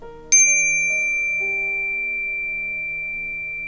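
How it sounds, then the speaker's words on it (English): A single bright desk bell strike rings out clearly and sustains a long, pure tone that slowly fades, with soft background hum underneath. "I just ring the bell."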